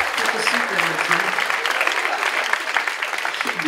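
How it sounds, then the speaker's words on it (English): Loud, sustained applause from a college auditorium audience at a hypnotist's stage show, with a voice talking over the clapping. "Give them a big round of applause."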